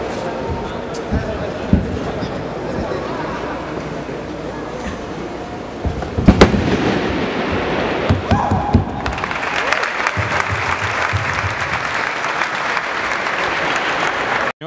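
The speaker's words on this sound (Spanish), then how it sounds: "Señores. El aplauso." Sustained applause from an audience at a martial arts exhibition, steady and full for the whole stretch, with a few louder slaps and crowd noise mixed in and a voice talking over it.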